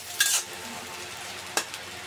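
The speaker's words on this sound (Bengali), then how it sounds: "বন্ধুরা দেখুন, পেঁয়াজ এরকম নরম করে আমি ভেজে নিচ্ছি।" Chopped onion fries in a pan under a constant soft sizzle, with two sharp scrapes of a spatula stirring it, close and clear.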